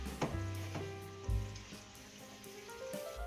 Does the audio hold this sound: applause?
no